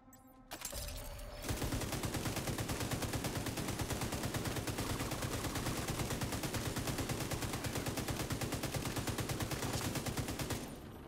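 A long, unbroken burst of automatic gunfire in The Division 2, a loud rapid volley of close shots beginning after a brief lead-in and hammering on for about nine seconds before stopping.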